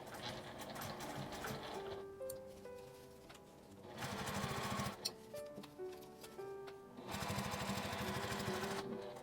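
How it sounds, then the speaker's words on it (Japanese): A sewing machine stitches a small flap mini pouch, turned slowly through thick, gathered seam allowances. Its needle whirs and clatters in several runs of a few seconds each, separated by brief pauses, and no one speaks. "ここはちょっと縫い代が集まっているのでゆっくりとミシンを回します。"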